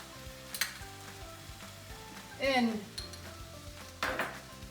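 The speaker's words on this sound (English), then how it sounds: "We're just gonna let this saute for maybe 2 or 3 minutes." Vegetables sautéing in a pan, a steady soft sizzle under clinks of a utensil against the pan and brief stirring scrapes, close and with no talking.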